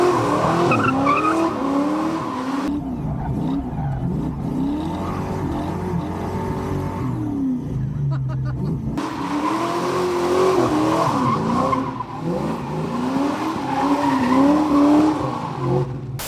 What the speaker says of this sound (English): We're gonna make him do donuts in a fox body.